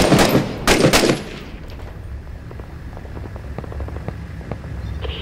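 Sniper fire in the Six Days in Fallujah game opens with a quick cluster of loud, sharp gunshots, then fades into scattered fainter distant cracks and pops.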